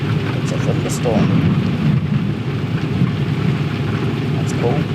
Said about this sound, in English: It's a thunderstorm.